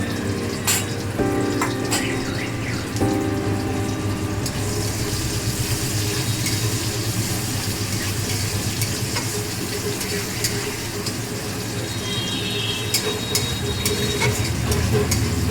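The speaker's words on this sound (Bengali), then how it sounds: "এর মধ্যে পেঁয়াজ দিয়ে দিচ্ছি, একটু কুচনো পেঁয়াজ" Chopped onions frying in a pan for a light Bengali fish curry, with a continuous close sizzle and occasional clinks and scrapes of a spatula throughout.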